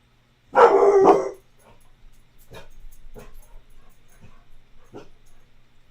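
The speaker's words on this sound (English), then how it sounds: "I don't know what they're barking at," Dogs bark: one loud, close double bark comes first, then several fainter, spaced barks and yips follow over a low background hum.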